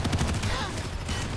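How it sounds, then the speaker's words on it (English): Enemy gunfire in the online shooter Planetside 2 as a dense run of rapid shots, close and steady, with a faint voice murmuring underneath. "That's enemy fire."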